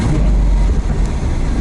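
A Lamborghini being driven from the inside: a loud, low, steady engine rumble fills the cabin with slight surges in pitch, no distinct downshift blips standing out, and no voices.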